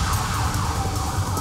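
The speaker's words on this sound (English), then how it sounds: "there's an ambulance flying right by me" An ambulance siren wails steadily and loudly as it speeds past close by on a city street, its rising and falling tone sustained over road noise.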